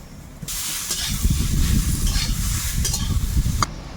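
Young eggplant and teasel gourd hit hot oil in a pan with a sudden loud sizzle, then keep hissing and crackling close by while being stirred, before the sound cuts off abruptly.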